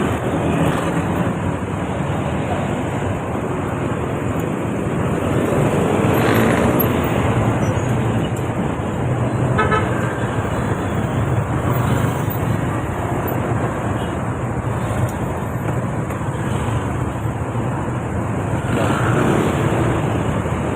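Steady road traffic rumbles close by, a dense continuous wash of engine and tire noise with no clear horn blasts standing out.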